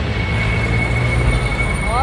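An LRT light rail train passes close by on a city avenue, giving a loud, steady rumble with a sustained high metallic squeal from its wheels and a rising whine near the end.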